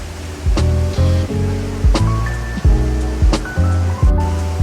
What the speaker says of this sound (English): We are at the Waterfall La Paz. The first waterfall.